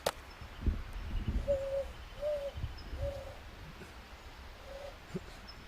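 A person imitates an owl with a series of soft hoots, about five evenly spaced calls over low outdoor background noise.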